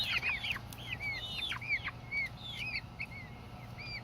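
Homestead fowl cluck and chirp close by in quick, rising and falling calls, a lively chatter of several birds over a low steady hum.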